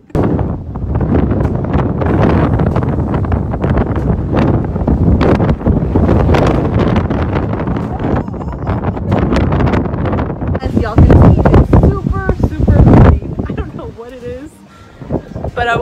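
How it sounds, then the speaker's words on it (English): Strong outdoor wind buffets the microphone in loud, continuous rumbling gusts that nearly drown out someone talking, easing only briefly near the end. "But I'm always recording when it's super windy."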